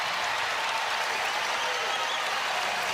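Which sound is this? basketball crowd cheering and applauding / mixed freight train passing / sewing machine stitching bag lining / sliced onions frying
basketball crowd cheering and applauding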